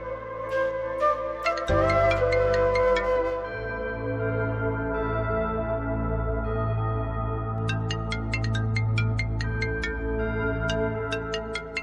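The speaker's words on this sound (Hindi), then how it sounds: "फोन बज रहा है" A melodic phone ringtone plays continuously, with a looping tune and bright rhythmic chimes, moderately loud and without speech.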